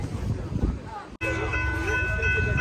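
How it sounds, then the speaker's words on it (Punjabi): A train rumbles past nearby in White Rock, Canada, its steady roar briefly cut off before returning with a sustained horn-like tone and rattling wheels. "ਆਪਾਂ ਦੇਖਿਆ ਕਿ ਟ੍ਰੇਨ ਆ ਰਹੀ ਆ ਸੋ ਮੈਂ ਕਿਹਾ ਚਲੋ ਤੁਹਾਨੂੰ ਦਿਖਾ ਦਈਏ"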